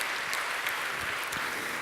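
A conference audience at a national business congress in Lille claps steadily, a dense even wash of applause holding at the same level throughout.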